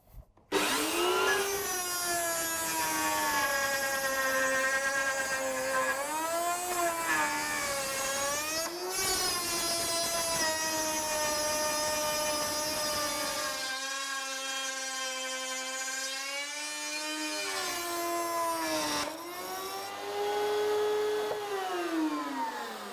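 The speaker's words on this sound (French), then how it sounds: "Voilà, avec ces 4 derniers morceaux, tout a été fraisé." A wood router fitted with a 10 mm bit set to 18 mm depth cuts grooves in wooden pieces, giving a loud, steady, high whine that shifts pitch as it bites into the wood over about twenty seconds.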